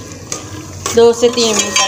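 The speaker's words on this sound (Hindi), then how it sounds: "अब इसको ना अच्छी तरह से मैं भून लेती हूँ" Onion masala being sautéed in ghee in a pan, with a spatula stirring and scraping through it over a soft sizzle; someone speaks briefly over the cooking sounds.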